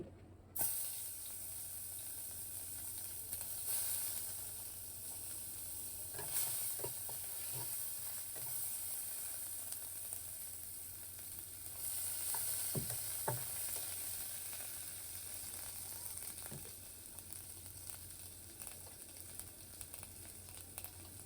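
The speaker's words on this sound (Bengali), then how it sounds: "এখন আমি কড়াইয়ে তেল আছে তেলটুক গরম হয়ে গেছে এখন দিব পেঁয়াজ কুচি" Chopped onions frying in hot oil in a wok give a steady crackling sizzle throughout, with occasional soft knocks and scrapes of stirring.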